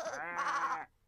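A cartoon sheep lets out a single wavering bleat, close and clear, lasting under a second before cutting off into quiet.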